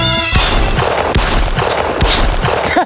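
Loud sharp gunshot-like cracks firing repeatedly at a coconut, a rapid series of bangs and booms with echoing tails in a comedy sketch scene.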